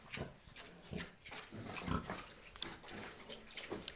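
Pigs (sows) grunt and slurp wetly as they feed on grain nearby, with sloppy chomping and splashing in quick, uneven bursts.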